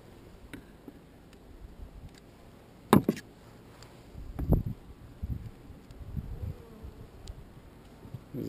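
Honey bees drone faintly in a top bar hive, with soft, scattered buzzing and a few sharp knocks and rustles close by.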